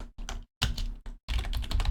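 Rapid bursts of keyboard typing, close and clear, broken by a few brief pauses between flurries of keystrokes.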